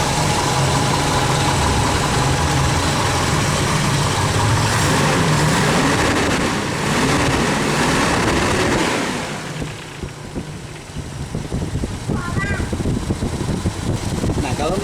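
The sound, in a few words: car engine started and revved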